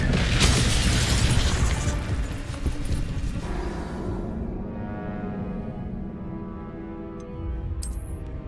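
An Expelliarmus spell bursts in Hogwarts Legacy with a loud booming blast that settles into a long, rumbling, ringing decay, followed by a brief bright chime near the end.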